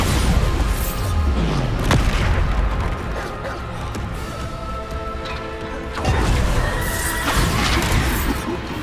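Bombarda blasting spell explosions in Hogwarts Legacy, a dense run of loud booms and crashes amid continuous magical combat, with heavy impacts near the start, around two seconds and again near six seconds.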